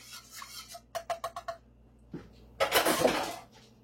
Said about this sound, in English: I'm dumping the veggies in.